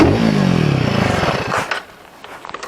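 A Royal Enfield Himalayan 450 motorcycle tips over beside the Ghataprabha river, its engine running loud at first before a scraping clatter of metal hitting the ground, then the noise drops away to quieter rustling.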